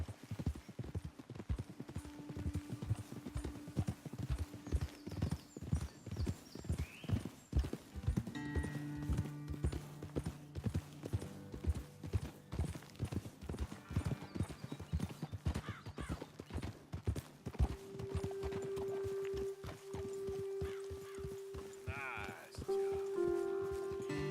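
Horses trot and gallop in Red Dead Redemption 2, their hooves clip-clopping in a steady rhythm with occasional whinnies, while people talk and game music tones sound over them.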